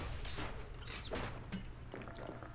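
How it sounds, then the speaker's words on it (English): The player's gun fires in the action game Bastion: a few sharp, punchy shots spaced about half a second apart, fairly quiet over a low, steady game soundtrack hum. "Oh, might as well use my gun."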